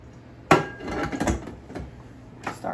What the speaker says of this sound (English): just gonna give it a good scrape